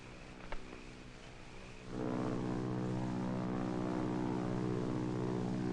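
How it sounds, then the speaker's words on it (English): A propeller aircraft drones overhead in a remote jungle setting in 1947, its steady engine hum swelling in after a quiet start and then holding a loud, even tone. "Do you hear a plane?"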